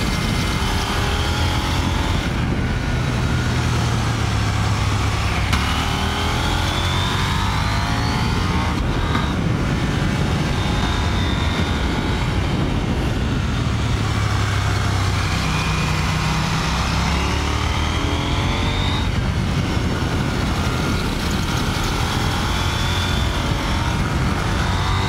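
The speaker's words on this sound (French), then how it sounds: "au niveau du bruit de la moto, franchement, elle ronronne bien." A KTM 890 Duke R motorcycle engine purrs steadily, its pitch rising and falling as it shifts through gears, with constant road and wind noise.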